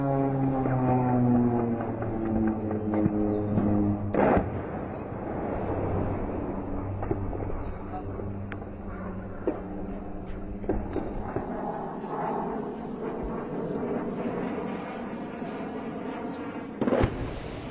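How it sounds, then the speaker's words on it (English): Airstrike bombs explode over Marawi, heard as heavy distant booms and sharp cracks scattered across a sustained rumble, with a tonal whine fading out early on. "Over 4 days in Marawi, we watched airstrike after airstrike"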